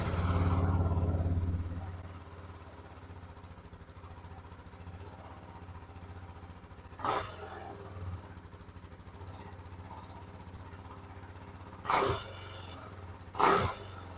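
A KTM RC 390 motorcycle engine fires up after a DIY valve adjustment, settling into a steady low idle after a brief louder start, with a few sharp mechanical bursts rising over the running engine.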